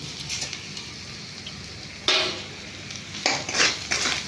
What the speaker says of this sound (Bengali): দিয়ে একটু কষে নেবো